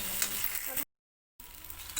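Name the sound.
food frying in a pan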